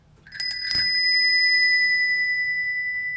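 A bicycle bell rings twice in quick succession, a bright metallic ding that lingers and slowly fades over a quiet background.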